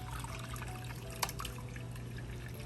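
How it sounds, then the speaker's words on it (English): Hot water poured into a bowl for soaking tea bags to dye a vintage dress, making a steady close trickle and splash that runs throughout, with no talking. "I'm just gonna pour this hot water"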